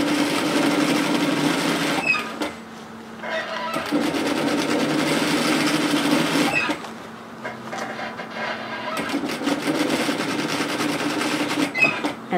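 A sewing machine stitches fabric on a peplum twist top in bursts, loud rapid whirring runs broken by short pauses, with quiet gaps between stretches of sewing.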